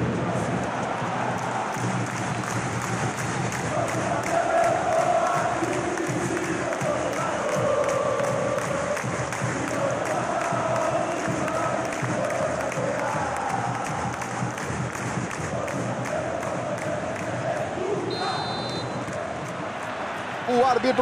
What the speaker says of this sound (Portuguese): a torcida faz um barulho realmente muito grande.